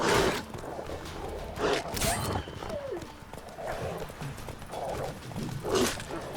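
Horses gallop during mounted horse-to-horse combat in The Witcher 3: Wild Hunt, with recurring hoof clatter and snorts among combat noises, while someone talks over the action.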